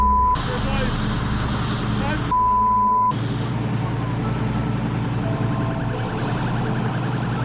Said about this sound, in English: I hear sirens are coming.